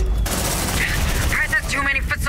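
Suppressing gunfire in Aliens: Dark Descent: loud, sustained automatic weapon bursts rattle rapidly and close by, with booming impacts layered over the fire.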